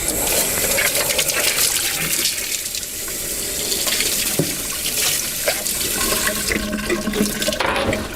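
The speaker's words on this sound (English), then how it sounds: "the squeegee needs to be rinsed thoroughly on the inside here." Water gushes and splashes as the inside of a floor scrubber squeegee is rinsed, a loud continuous rush of running water that shifts in pitch as the flow moves.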